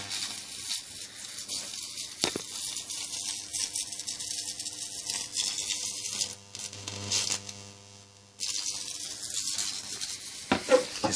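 Carbon rod electric arc running on rectified mains, a steady close crackling sizzle with a low hum beneath, dipping quieter briefly midway before resuming, with sharp pops near the end.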